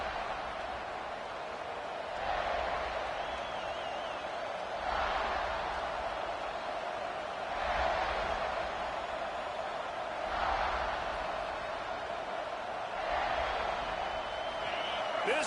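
Steady stadium crowd roar from a college football video game, a broad continuous wash with gentle swells every few seconds, running under a play-by-play commentator's voice.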